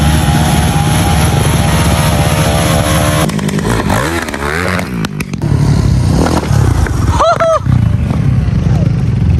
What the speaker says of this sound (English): Doing burnouts today.